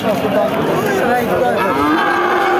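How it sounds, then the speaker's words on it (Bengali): Sindhi breed bull calves at a busy cattle market, giving a loud, close, sustained moo over a faint murmur of the crowd. "সিন্ধি জাতের চমৎকার 2টা ষাঁড় গরু।"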